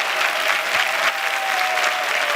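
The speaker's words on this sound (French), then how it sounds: "est-ce qu'on peut se lever pour applaudir pour ma maman et pour toutes les mamans du monde?" A comedy show audience rises and applauds, thick continuous clapping from a large crowd, close and even, with a faint voice underneath.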